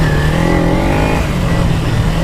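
Engine of a Dirt Ninja 250 motorcycle runs steadily, a loud, continuous drone with a strong low harmonic tone that holds without pause throughout, heard close.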